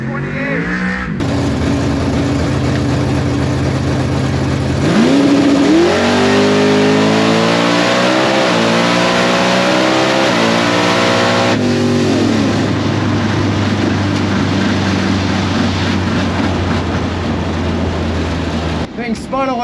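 A drag race car launches on a test pass: the engine idles, then roars into a hard acceleration with rising revs and gear shifts before settling back to a rumble, close and loud.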